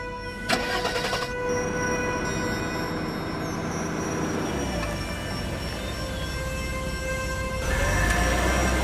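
A car engine starts and the car pulls away, a steady mechanical drone that deepens into a low rumble midway and swells louder near the end.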